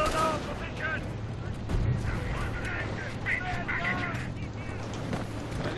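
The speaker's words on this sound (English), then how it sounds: "We're taking fire on our position!" Gunfire in the Company of Heroes war game: scattered shots and bursts of battle noise crackle at mid distance among voiced unit callouts and general combat din.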